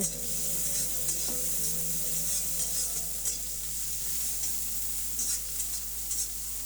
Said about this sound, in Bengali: পেঁয়াজটাও নাড়াচাড়া করে ভালোভাবে ভেজে নেব